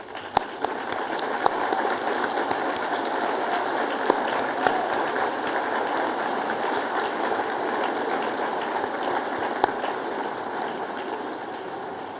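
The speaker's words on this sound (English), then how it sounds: "let's give them a round of applause" An audience at an annual celebration gala applauds for a committee standing up, a dense, sustained patter of clapping with occasional sharper claps, no talking over it.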